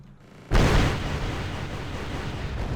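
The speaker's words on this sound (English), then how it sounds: "Well, they're rockets, of course, but basically bombers." Rocket strike explosion in Wargame: Red Dragon, a sudden heavy boom after a brief quiet moment, followed by a long rumbling roar that stays loud to the end.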